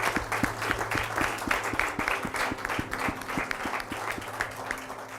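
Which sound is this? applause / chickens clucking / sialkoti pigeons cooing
applause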